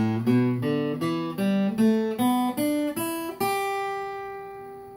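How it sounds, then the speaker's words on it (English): Eight single guitar notes of the E pentatonic minor scale climb from low to high at an even pace, the last one ringing out and fading. "Pentatonic Minor Scale sounds like this"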